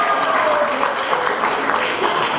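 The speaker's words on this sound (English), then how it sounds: "let's give her another round of applause" A family reunion crowd gives a steady round of applause for a guest, dense clapping with some voices mixed in, moderately loud and continuous for the whole stretch.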